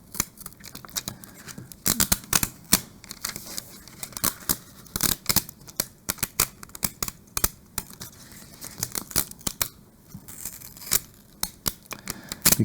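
Sublimation vinyl tearing and peeling in quick irregular bursts of sharp ripping and crinkling, close and fairly loud, with short pauses between pulls and no voices.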